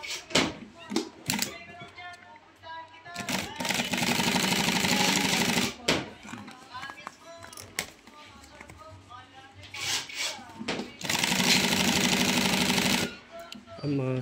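A sewing machine set to run slowly whirs in two sustained bursts of steady mechanical buzzing, with clattering handling noises and people talking around them.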